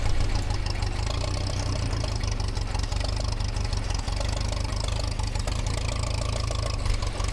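A Massey Ferguson 35 tractor engine works in first gear on a muddy forest road, a steady low chugging drone that stays close and loud without any break.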